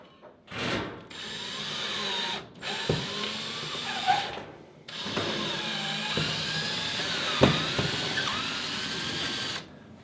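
A power drill drives screws into a wall to mark mounting bracket holes, with several bursts of whirring motor noise separated by short pauses, close and loud, with no talking.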